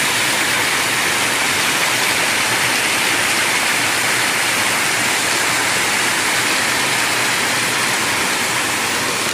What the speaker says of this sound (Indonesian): sudah jumpa 3 air terjun kecil-kecil kayak ini guys